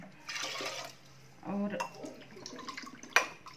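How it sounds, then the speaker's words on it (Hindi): Water poured from a glass into a cooking pot while making black dal khichdi, a short splashing pour near the start and another around the middle, with someone speaking briefly over it. "2 गिलास पानी डाल रही हूँ और 1 गिलास डालूँगी"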